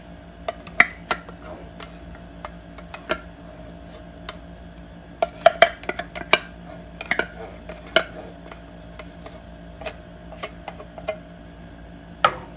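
Spoon stirring tomato sauce in a pot on a low burner, a sparse series of light clicks and scrapes against the metal, soft and close with irregular spacing and brief quieter gaps.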